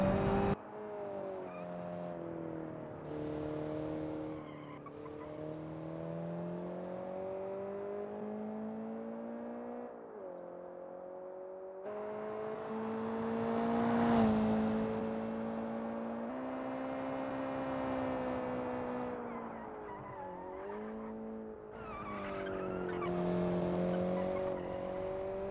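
A car racing around a track in the driving game Automation, engine revving and whining as it shifts through gears, pitch rising and falling through corners, loud and close throughout with no talking.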